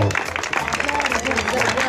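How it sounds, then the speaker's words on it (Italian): Pageant audience applauding the Miss Trieste 2018 finalists, a short steady burst of clapping running under a talking voice throughout. "per me per tutte finaliste idealmente, col vostro calorosissimo applauso"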